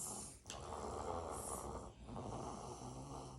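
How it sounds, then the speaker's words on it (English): A baby snores loudly and steadily, two long rasping breaths close to the microphone with a brief pause between them, with no talk over it. "this baby is snoring so loud"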